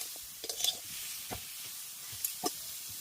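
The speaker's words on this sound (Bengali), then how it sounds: "এবার মশলাটা দিয়ে আরও একটু ভেজে নিচ্ছি" Mustard paste frying in a pan with amaranth stems and hog plum gives a quiet, steady sizzle, broken by a few soft scrapes of stirring.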